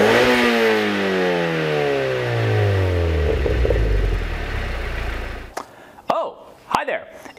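A Mazda Miata NC fitted with a Flyin' Miata exhaust revs up loudly and rises in pitch, then lets off, followed by a few short sharp blips with a resonant bark.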